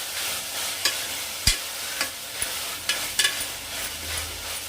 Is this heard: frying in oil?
yes